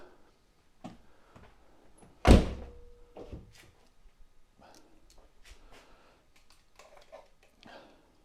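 Door locking mechanism on a 2008 Audi A3 being tested, one loud close thunk followed by softer mechanical clicks and clatter, with faint background noise.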